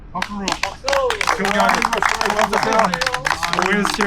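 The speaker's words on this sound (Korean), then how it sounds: "박수" An audience claps during a history lecture on Joseon-era palaces, the patter running steadily beneath loud, continuous talk from a speaker.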